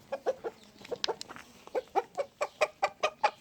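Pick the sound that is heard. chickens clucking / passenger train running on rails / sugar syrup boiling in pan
chickens clucking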